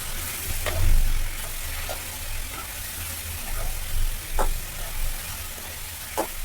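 Brinjal with salt and turmeric is stirred in a frying pan, giving a steady sizzle with a few sharp scrapes and taps of the spoon against the pan.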